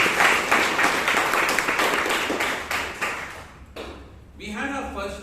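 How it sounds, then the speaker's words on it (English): Loud, dense applause fills the room at a Toastmasters club meeting in Bangalore for about three and a half seconds, then fades abruptly as a voice begins speaking. "let's give Ratan a big round of applause"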